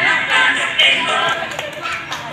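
A group of schoolchildren applauds during a grade 6 dance practical exam at an elementary school, a dense steady patter of many hands clapping close by for the whole moment, with chatter underneath.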